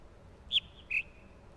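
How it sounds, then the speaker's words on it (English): Two short, high whistled chirps, like a small bird, from a sound puzzle in the jungle area of the video game The Witness, sound clearly against a quiet hiss, a brief pause between them. "Because the bird is still chirping."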